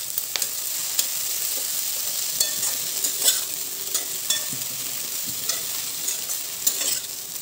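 Chivdi greens frying in a pan with softened tomatoes, a steady close sizzle broken by repeated scraping stir strokes at an irregular rhythm, with no talking.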